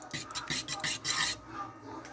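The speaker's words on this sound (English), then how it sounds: "I was probably not supposed to be stirring it with a fork." A fork scraping and clinking against a pot while melting cheese is stirred, a few quick metallic strokes close by, then fading softer.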